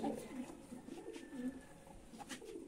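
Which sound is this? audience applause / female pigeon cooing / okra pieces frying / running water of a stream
female pigeon cooing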